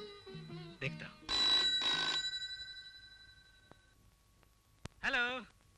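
A telephone bell rings in short bursts, two strong rings early and another near the end, with a voice speaking briefly at the start.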